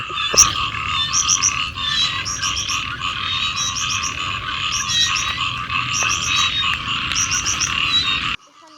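Bullfrogs croak in a public park, a dense chorus of rapid pulsing calls repeating steadily and loudly over a constant outdoor hiss, then it cuts off abruptly near the end.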